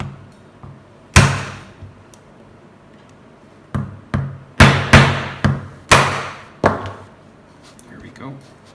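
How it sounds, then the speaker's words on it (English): A hammer strikes a screwdriver wedged into the corners of a plastic power supply case, giving a series of sharp, loud, close cracks and knocks. One hit comes early, then a quick irregular cluster of blows follows. "I have here a hammer and a screwdriver, and I'm going to pinch it here in the corners to see if I can break it loose."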